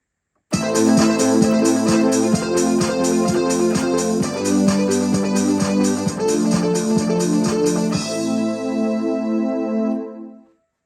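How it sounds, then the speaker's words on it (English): A Casio CTK-691 electronic keyboard plays back a recorded four-track arrangement, steady and rhythmic with repeating beats and layered tones, then the notes ring out and fade to silence. "And now the keyboard waits for us to play."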